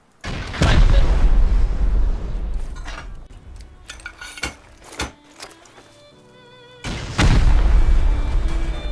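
Rust rockets slamming into a sheet metal wall, each impact a heavy deep boom with a long rumbling tail, two big blasts at the start and end with quieter metallic clanks and knocks in between, close and loud.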